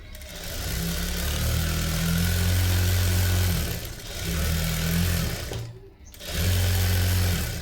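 A sewing machine runs steadily while stitching a V-neck blouse, giving a continuous close whirring hum that breaks off briefly near the end before restarting.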